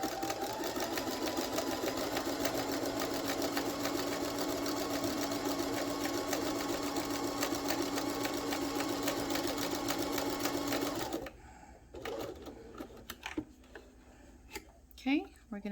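A sewing machine runs a steady zigzag stitch across a fabric face mask, a continuous dense whir lasting about eleven seconds before stopping, followed by quieter handling clicks.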